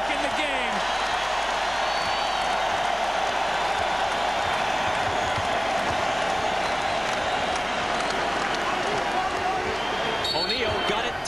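Arena crowd at a 2000 NBA Finals game between the Pacers and Lakers, a dense, steady roar that holds loud throughout, with ball bounces and court noise mixed in.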